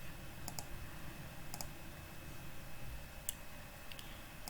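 A few sparse, faint mouse clicks, single and paired taps spaced over several seconds, against a quiet steady room hum.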